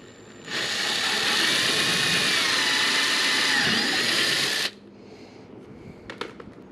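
A power drill bores a hole into the hull of a Vibe Shearwater 125 kayak to fit a well nut, one loud steady whine of about four seconds, then quiet handling noises.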